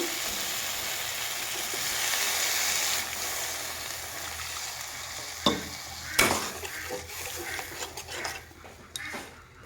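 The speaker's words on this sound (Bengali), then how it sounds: "তো এখানে আমার মশলাটা কষানো হয়ে গেছে আমি এখানে একটু জল দিয়ে দিব" Water poured onto fried masala in a pan for an egg and potato curry, giving a loud, dense hiss of sizzling that gradually settles, with several sharp scraping stirs near the end, close up and without talk.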